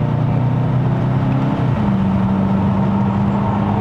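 A Volkswagen Arteon R-Line 4Motion with a 2.0-litre turbocharged four-cylinder EA888, stage-one tuned with stock intake and exhaust, accelerates on a mountain road toward Genting. A loud, close engine drone climbs, then drops with a gear change and pulls again.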